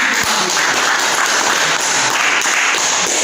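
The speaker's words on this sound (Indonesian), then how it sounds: "Tepuk tangan." Applause from a seated audience at an Indonesian talk on orderly conduct, a dense steady patter of many hands clapping that fills the whole stretch at even loudness.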